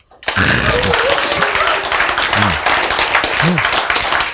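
A church congregation breaks into steady, dense applause that fills the whole stretch, with a voice calling out over the clapping now and then.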